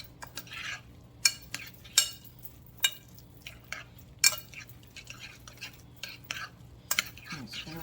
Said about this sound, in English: I'm adding about a cup of celery